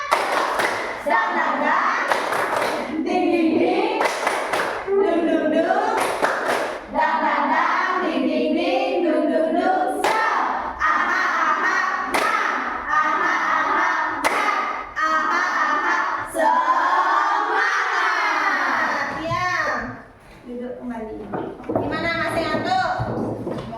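Children in a classroom perform the tepuk semangat clapping chant, rhythmic group claps and thumps mixed with energetic chanting voices, close and lively, with an adult voice leading throughout.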